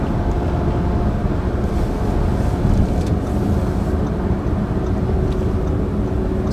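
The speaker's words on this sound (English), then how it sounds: "we're hitting 80, and then that turbo kicks in. It just rockets you up to 100 in no time" An Audi Q3 with a turbo pulls hard at highway speed, climbing from about 80 to 100; a steady, dense low road-and-engine roar fills the cabin at constant loudness, with no one talking.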